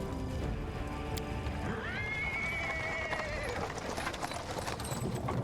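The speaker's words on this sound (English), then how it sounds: "He's interrupted by the sound of wheels rolling on the paving stones." A horse-drawn cart rolls over paving stones in the Pathfinder: Wrath of the Righteous game, with continuous wheel rumble and hoof clatter under a loud drawn-out horse whinny in the middle.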